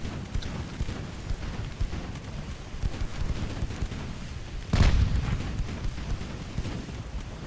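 Naval gunfire in the warship game Ultimate Admiral: Dreadnoughts comes through as a low, rumbling wash of distant cannon booms, with one sharper, louder blast near the end standing out from the steady background.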